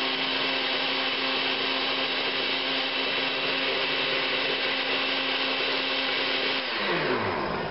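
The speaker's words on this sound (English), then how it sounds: "I'm going to blend this up, a mixture of mushrooms and the broth and the red wine into the gravy" A blender whirs steadily as it purées mushrooms, broth and red wine into gravy, a loud continuous motor drone whose pitch drops near the end as the blend thickens.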